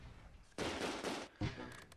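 Gunfire in the WWII tactical wargame Close Combat II, in a battle for the Nijmegen north bridge. Two loud, rattling bursts of fire are separated by a short lull, with a faint crackle after.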